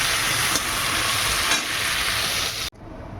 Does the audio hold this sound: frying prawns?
yes